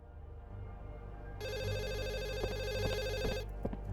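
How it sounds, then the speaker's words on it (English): A telephone rings in the video game The Assembly, its electronic bell starting abruptly and repeating steadily for about two seconds over a low ambient hum before cutting off. "Pick up the phone."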